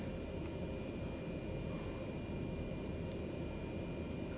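A jet airliner roars down the runway on takeoff near Hawaii in a flight simulator game, a steady, broad engine rumble with no talk, constant in level throughout.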